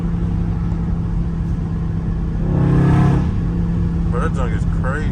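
A Dodge Charger Scat Pack's engine idles with a steady throb, then swells into a brief loud rev before settling back, heard close with background noise throughout.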